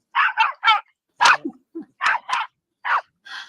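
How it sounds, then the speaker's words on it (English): A feisty small dog barks in a rapid run of sharp, close yaps, with brief pauses between clusters of barks. "So it's typical little dog, isn't it? It's feisty. It's barking away at him"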